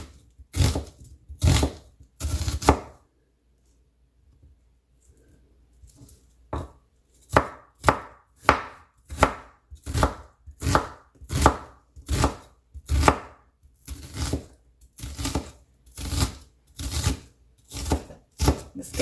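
A knife slices onion on a cutting board for banana stem kootu, making crisp, even chopping thuds in short bursts, then a pause of a few seconds before a long, regular run of strokes.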